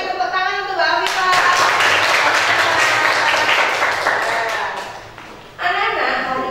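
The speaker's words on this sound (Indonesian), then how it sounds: "Tepuk tangan untuk Mbak Afifah." A primary school class claps together in brisk, unison bursts between voices during a maths lesson, the clapping loud and close before it tapers off and talking resumes.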